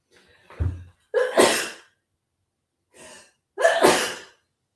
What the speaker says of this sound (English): Wait, I got to sneeze.